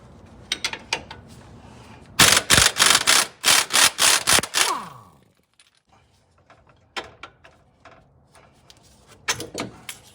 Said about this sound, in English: We're gonna be using a 19 millimeter socket and an 18 millimeter open end wrench on the back side.